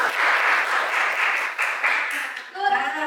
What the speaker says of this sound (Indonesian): Tepuk tangan hebat Mas Aril.